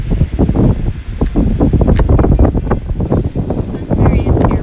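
Strong gusts blow around a DJI Mavic Pro drone at Dennisport on Cape Cod, creating a loud, continuous rumbling buffet of wind on the microphone that rises and falls in rapid surges.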